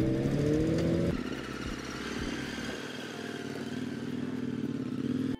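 Motorcycles start up and pull away on a road trip in the Cantal mountains, a loud engine revving close at first, then settling into a steady drone as the bikes ride off.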